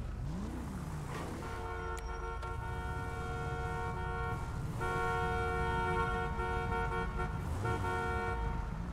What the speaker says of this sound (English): Why are you honking?